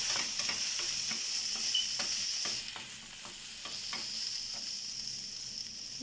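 Green chilies frying in a pan, a bright continuous sizzle with repeated clinks and scrapes of a spatula stirring through, close and without speech.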